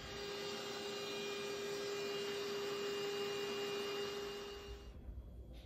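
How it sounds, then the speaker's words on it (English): Blow dryer running steadily on a mallard duck's feathers at a taxidermy workbench, a constant loud whooshing hum with a faint tonal whine that cuts off near the end, with no talking. "I'm gonna go ahead and move to my workbench and start blow drying."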